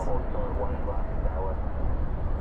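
An airliner lands on runway 18 left at Dallas/Fort Worth airport, a broad engine rumble heard at a distance under a person talking.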